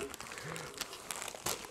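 A plastic bag wrapped around a Skechers sneaker crinkles and rustles as the package is opened, in close, faint crackling bursts.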